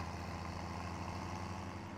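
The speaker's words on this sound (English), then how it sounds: "this has become really the tractor of choice for doing any work" Steady tractor engine drone in Farming Simulator 2017, a continuous low rumbling idle with even, unchanging loudness and no other sounds.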